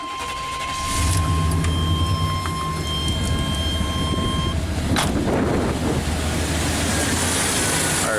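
The warmed-up engine of a 1988 Chevy K1500 truck with a stumble and power loss idles steadily after starting, a low continuous rumble heard up close with some wind noise.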